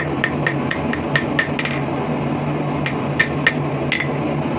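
Forging a dog head hook for a draw knife, a blacksmith's hammer strikes hot steel to reverse a taper, giving sharp ringing blows in quick bursts over a steady background hum, close and loud.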